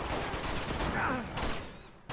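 Enemies keep firing at the player in Uncharted 2, a dense rattle of continuous gunfire with no pause in it.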